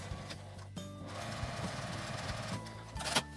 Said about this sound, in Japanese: 端ミシンで縫い閉じます。